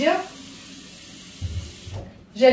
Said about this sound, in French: Donc, je vais mettre de l'eau.